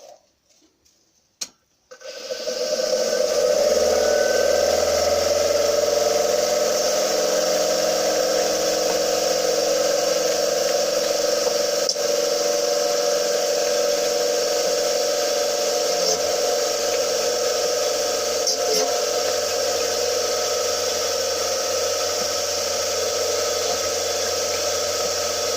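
A machine motor on a key-cutting machine starts after a brief click and then runs steadily with a constant hum and whine, unchanging to the end.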